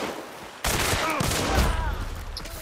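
Video game gunfire bursts out suddenly as a rapid fusillade of shots, loud and close, then trails into a continuing rattle with a voice talking over it.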